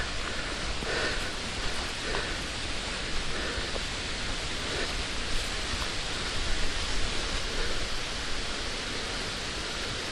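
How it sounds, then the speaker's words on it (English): A waterfall on a steep coastal path between Dunbar and Dunglass roars as a steady, dense broadband rush, loud and continuous throughout with no talk over it. "Oh, a waterfall!"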